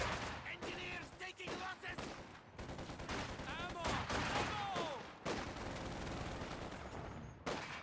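Dense, sustained MG42 machine-gun fire in a multiplayer tank-and-infantry strategy match, rattling in long overlapping bursts alongside other battlefield shots, with a voice talking faintly underneath.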